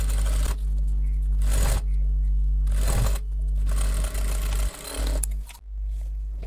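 A sewing machine stitches a simple fabric shopping bag with its lining, running in several short, buzzing bursts separated by brief pauses, close and loud.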